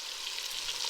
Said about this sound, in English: Emily's making bacon chips